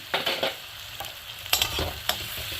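Ginger paste and spices frying in a pan for a fish-head and bottle gourd curry, stirred with quick scraping strokes over a close, steady sizzle.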